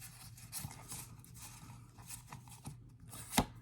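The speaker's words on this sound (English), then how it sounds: "I'm just going to shuffle the cards here." Faint, scattered rustles and soft snaps of tarot cards being shuffled by hand, ending in one sharp, brief click; quiet and close.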